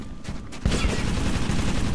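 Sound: gunshots from the video game Metro 2033 Redux

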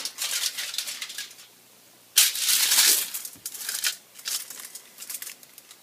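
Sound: aluminum foil being laid out and crinkled

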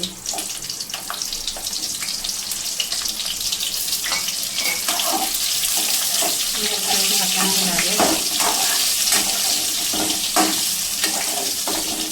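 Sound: eggplant frying in hot oil on medium gas

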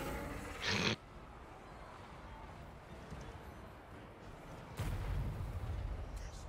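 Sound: cannon shot, video game

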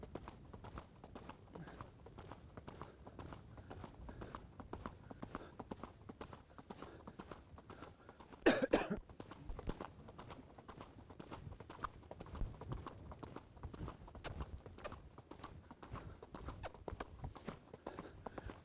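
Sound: horse galloping in an arena

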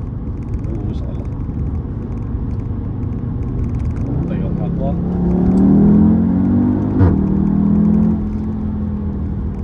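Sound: Audi TTS quattro car driving, switching comfort to sport mode

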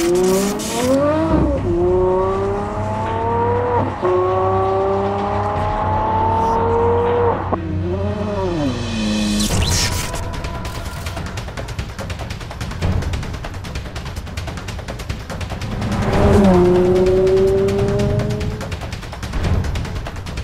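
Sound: Aston Martin One-77 car engine driving

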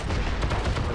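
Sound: gunfire from the video game Heroes & Generals

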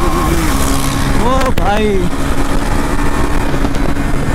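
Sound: Kawasaki ZX10R motorcycle exhaust sound

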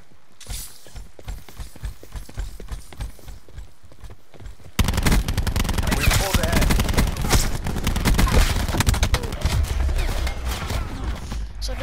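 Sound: burst-fire gun shooting in Call of Duty video game

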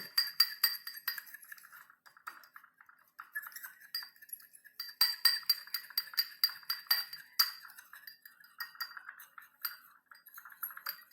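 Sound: stirring powder mixture with a spoon

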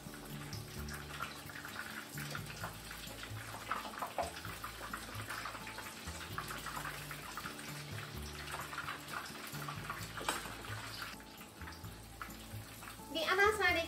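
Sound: cabbage menchi katsu frying in oil

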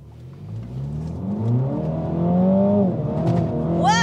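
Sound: MINI car accelerating at full throttle

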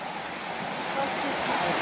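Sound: small creek flowing water

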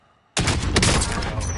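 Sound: gunfire in video game Warzone

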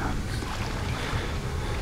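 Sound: crouching through water in the video game Outlast

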